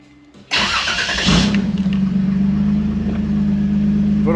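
A truck engine, raised on a lift with its wheels off the ground, cranks briefly and catches, then settles into a steady, loud idle that runs on alone.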